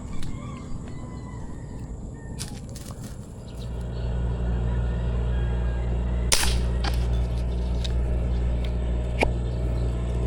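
A few sharp, isolated gunshot cracks ring out outdoors on a river during fish hunting over a low engine rumble, spaced irregularly several seconds apart.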